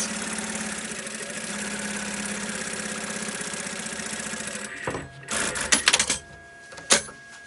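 A sewing machine runs steadily while stitching and cutting fabric pieces cut from recycled jeans for a teddy-bear bag, a continuous mechanical whir that stops near the end, giving way to a few scattered clicks and handling knocks.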